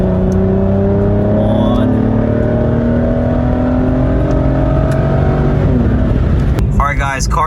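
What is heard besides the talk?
Aston Martin engine revving in sport mode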